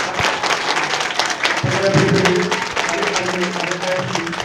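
Dense applause from a large crowd at a Malian Army Day celebration fills the space steadily, with voices and cheers mixed into the clapping.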